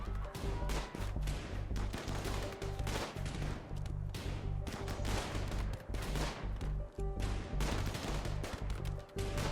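Video game gunfire in a sustained battle: heavy, constant volleys of shots and booming impacts roll on without pause, loud and dense across the whole stretch with a low rumbling undertone.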